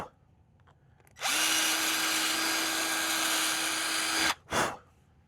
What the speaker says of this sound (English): Yep, I need to drill that out.